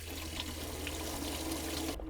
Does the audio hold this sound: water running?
yes